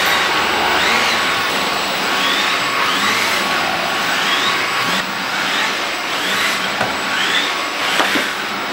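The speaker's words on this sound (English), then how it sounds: "It's a wet dry vacuum. So basically vacuums and mops your floors" A Tinigo wet dry vacuum whines steadily while mopping a floor, a loud continuous motor drone with sweeping pitch changes as it is pushed back and forth, with no talking over it.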